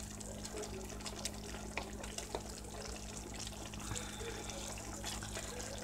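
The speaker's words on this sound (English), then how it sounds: "we got some boiling going on." Knorr taco rice with added butter boils in a pot on the stove, a faint steady bubbling and gentle sputter with small pops, heard close and quiet.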